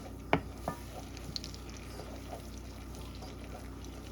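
Butter sizzles softly in a pan while browning for chocolate chip cookies, a steady low crackle broken by a few close clinks and scrapes of a spoon stirring.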